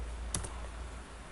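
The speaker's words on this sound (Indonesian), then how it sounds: "Kemudian kita ketik GUID." A few keystrokes on a computer keyboard while working in MATLAB, two quick close clicks over a low steady background hum, then quiet.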